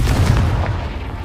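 A Confringo blasting spell explodes in the Hogwarts Legacy game, a loud, heavy, rumbling boom that fills the short moment with deep low-end roar.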